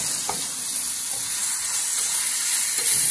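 Chopped vegetables for a veggie roll fry gently in a pan over low heat, giving a steady close hiss and sizzle with a few soft stirring clinks, no voices.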